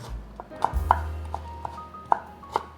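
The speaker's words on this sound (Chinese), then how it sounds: "把红萝卜切条" A knife chops peeled carrot into strips on a cutting board, producing a steady series of crisp, close taps at irregular intervals over a low background hum.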